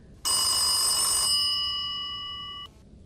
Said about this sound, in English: The orange phone rang